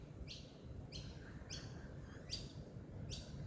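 Small birds chirp in short, repeated calls around a large native grevillea shrub outdoors, about five bright bursts at a steady pace over a constant low rumble of background noise, with no talking.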